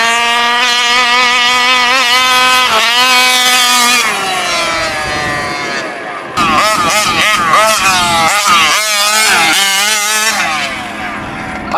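Taylor 46 GT nitro engine with a large pipe running in a 30 Degree North RC car, a loud, close, buzzing two-stroke whine that revs up and down, dips briefly, then surges again with sharp throttle blips.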